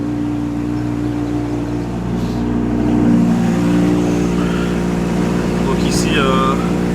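A cold sports car engine idles with a steady low rumble that swells slightly louder midway, holding a strong, even drone with faint background noises.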